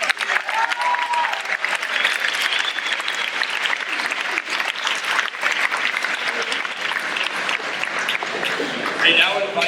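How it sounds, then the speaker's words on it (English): An audience at a Veterans Day event gives a sustained round of applause for the performers, dense continuous clapping from a crowd at moderate distance with a few voices mixed in. "Can we get one last round of applause for everybody that performed today?"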